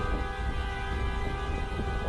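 A train horn blares continuously, long and loud, a steady harmonic tone holding throughout over a low rumble.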